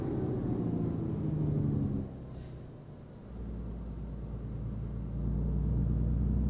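A bus engine in Euro Truck Simulator 2 rumbles steadily as it nears the Esenler bus terminal, a low continuous drone that dips briefly and then returns.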